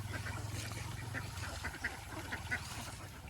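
Domestic ducks at a farm pond give repeated nasal quacks, scattered and somewhat distant, over a low steady rumble of background noise with no talking.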